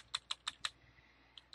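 A computer keyboard is tapped in a quick run of four crisp keystrokes, followed by a pause and two more soft clicks, all quiet and close with no voices.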